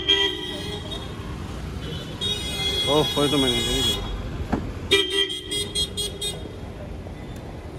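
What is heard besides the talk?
car arriving with horn honking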